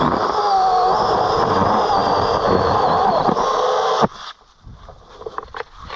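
A Troozy 6-inch cordless handheld chainsaw cutting tree branches gives a loud, steady buzzing whine for about four seconds, then stops abruptly, leaving quieter scattered rustles and clicks.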